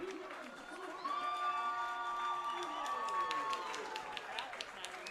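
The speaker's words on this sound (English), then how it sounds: "The crowd loving that one from Bryson" Middle school football crowd in the stands cheers and claps after a first down run, a broad roar swelling in the middle with a commentator's voice over it.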